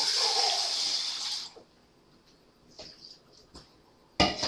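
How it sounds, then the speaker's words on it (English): Water pours into a pot of pepper base for efo elegusi, a brief rushing splash for about a second and a half, followed by quiet kitchen clatter and a sharp knock near the end. "I might need to add a little water."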